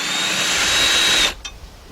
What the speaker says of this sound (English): So I'm going to get my T45 socket, 3/8 drive, with my cordless drill.